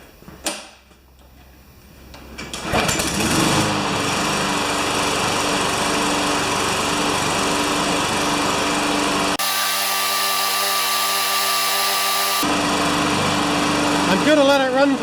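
A Briggs lawn mower engine with an automatic choke and a plastic cam gear is pulled over, catches after a couple of seconds and runs loudly and steadily nearby, with a brief change in tone partway through.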